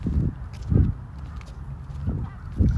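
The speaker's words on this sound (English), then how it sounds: "Here comes a gang of geese." A gang of geese passes nearby, giving four low, rough honks spaced roughly evenly over a few seconds, with faint shuffling in between.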